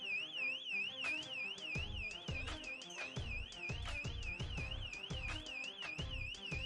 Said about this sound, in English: the alarm's going off behind us, but announcing stops for nothing